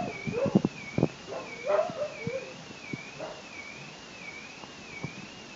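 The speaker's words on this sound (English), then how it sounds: "wind is howling in the background, and there's like a dog barking as well." A dog barks and yips in short bursts near the start, over a steady whistling, wavering wind howl that continues throughout and grows fainter toward the end.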